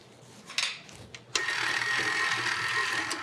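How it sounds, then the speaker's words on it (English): A stand mixer fitted with a flat beater works 14 ounces of butter with a tablespoon of flour for croissant dough, a few soft knocks first, then a steady whirring, close motor hum. "we're going to soften that with 1 tablespoon of flour in our mixer with a flat beater"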